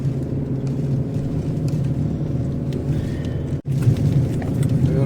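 A car climbs a high-altitude road in Ladakh between Hanle and Umling La, its engine short of oxygen and slow to pick up in first and second gear. A steady, heavy, low rumble continues, broken by one brief dropout.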